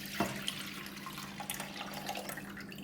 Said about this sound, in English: Put in 1 liter of water.